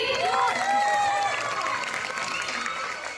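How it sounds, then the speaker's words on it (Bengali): Loud applause from an audience at a live stage performance during a youth club's Olympica 2024 event in Beliaghata, with dense clapping and a few whistle-like tones running through the whole stretch. "জোরে হাততালি"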